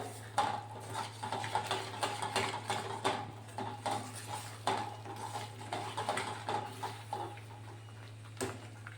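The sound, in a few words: stirring gond pend (gum resin sweet) with melted jaggery in a pan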